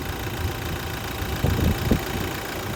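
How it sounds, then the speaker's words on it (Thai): A steady 2.8-litre diesel engine of a four-door Toyota Hilux Revo pickup idles close by, a low even rumble with a couple of brief louder surges, no voices. "เสียงเครื่องยนต์เนี่ยเดินนิ่งๆของแบบนี้เลยนะ"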